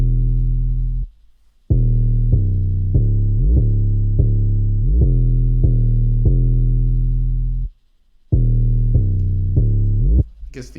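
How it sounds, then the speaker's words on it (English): A distorted Spins 808 bass, processed with EQ and chorus and sidechained to a kick, plays a loud, steady pattern of repeated notes with pitch slides and two brief gaps. "this Spins 808, and I processed it"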